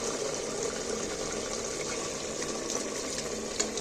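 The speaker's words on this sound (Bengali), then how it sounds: "এইবার আমি পরিমাণ মতন জল দিয়ে দিচ্ছি" Water is poured into an egg and jackfruit curry in a pan, a steady continuous pouring and bubbling rush that holds evenly throughout without any talking.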